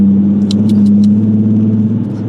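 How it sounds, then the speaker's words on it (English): Traffic on a New York City street, including a Honda and a white Jeep, gives a steady low engine rumble and a continuous hum, with a few faint clicks above it. "look at this Honda and that white Jeep right over there"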